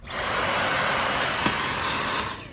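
A Dyson V6 cordless vacuum cleaner runs steadily after its brushbar has been repaired, a loud close whine that spins up at the start and winds down at the end, with no talk.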